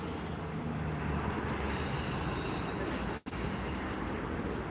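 A train accelerating hard through Gloucester, giving a loud, steady roar of rolling wheels and engine with faint high squeals, continuous throughout apart from one brief dropout.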